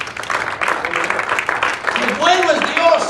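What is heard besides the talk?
congregation applause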